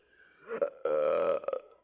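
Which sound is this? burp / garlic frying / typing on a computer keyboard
burp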